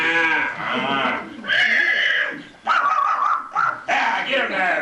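Voices imitate cattle being driven, with loud rhythmic shouts and whoops mixed with barking, close and energetic in several bursts.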